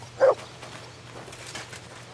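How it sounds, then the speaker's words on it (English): A dog in the video game Kingdom Come: Deliverance II gives a single short, sharp bark near the start, followed by quiet outdoor ambience with faint rustling. "Good dog, Mutt. Show me"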